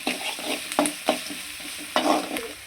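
Onions being sautéed with rock salt in a hot pan, a spoon scraping and stirring in short irregular strokes over a soft steady sizzle.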